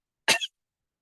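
A single short, sharp cough made during a supraglottic swallow exercise, held breath then a quick burst, close and moderately loud, alone in silence.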